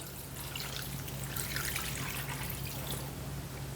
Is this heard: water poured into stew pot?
yes